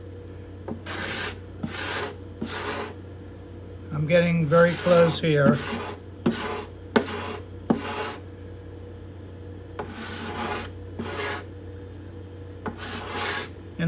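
Steady scraping of binding and purfling on the cedar top of a Desmond guitar: repeated short rasping strokes in an even rhythm, close and moderately loud, with a brief burst of rougher scraping partway through and a short spoken remark.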